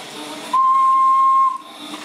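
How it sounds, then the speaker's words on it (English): A whistle is blown to steer a vintage Sonicon toy bus, giving one steady, clear, pure tone lasting about a second over a faint hiss. "as long as you blow the whistle, it'll select a new direction"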